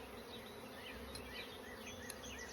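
Honey bees buzzing close around a beekeeper during a spring hive inspection, a dense continuous drone with individual bees whining past nearby, steady and fairly loud throughout.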